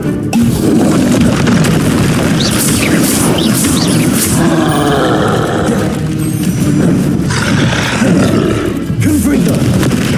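Loud, continuous booming blasts from a Bombarda explosion spell in Hogwarts Legacy, layered with roaring, grunting combat noise and sharp impacts throughout, with a voice shouting spell names amid the chaos.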